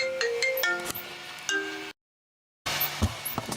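Melodic phone ringtone chiming for an incoming call during a generator test on a Fisher and Paykel setup, a series of clear tonal notes that cut off abruptly into silence before clattering workshop noise resumes.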